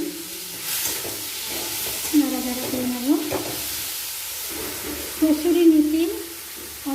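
Chopped tomato fries in a pan with a steady sizzle and the occasional scrape of stirring, while a voice speaks briefly at moments.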